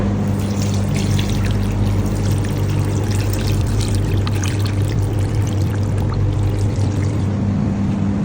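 Water pours steadily into a container to dissolve salt for homemade pickle brine in a kitchen, a continuous close splashing stream running the whole time with a low steady hum underneath.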